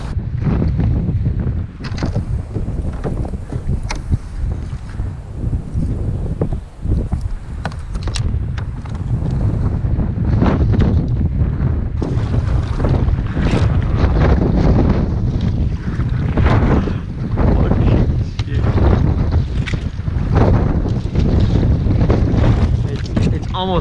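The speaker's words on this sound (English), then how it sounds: "for easily 45 minutes to maybe travel 2 miles against this 25-mile-an-hour wind." Strong 25 mph wind buffets the microphone on a Texas creek while kayaking, a loud continuous roaring gust noise with paddle and water splashes mixed in throughout.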